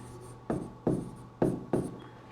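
A pen scratches out an entry in a cash book, four distinct strokes in a steady rhythm, close and quiet against a faint hum.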